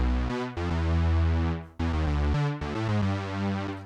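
Moog-like square-wave synth preset from Anna with added Juno noise, playing a few sustained bright notes with smooth pitch changes, fairly quiet and alone.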